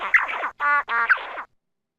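Zebra finch song slowed to roughly 40% speed: a close, clear run of several distinct syllables, some buzzy and some evenly pitched and harmonic, in a rhythmic, percussive pattern lasting about a second and a half before silence.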